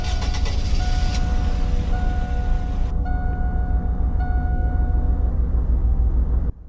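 A 2005 Suburban in the Roblox driving game Greenville rolls along with a steady, loud engine rumble and faint whining tones throughout, then cuts off abruptly at the end.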